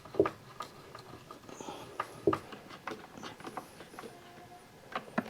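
Screws being driven into the frame of a skylight shade, giving a few soft clicking, ratcheting taps spread irregularly with quiet handling noise between them.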